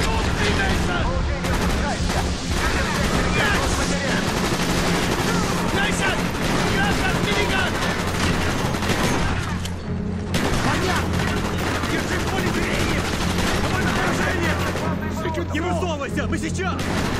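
Dense, continuous gunfire and fusillades in Call of Duty: Black Ops, set in the Vorkuta mission, with loud rattling bursts and booms sustained throughout under shouted voices.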